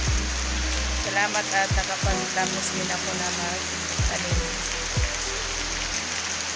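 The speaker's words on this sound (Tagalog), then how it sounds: "Ito, grabe yung ulan." Heavy rain pours steadily in Kabadbaran City, Mindanao, a dense continuous wash close by, while a person talks over it throughout.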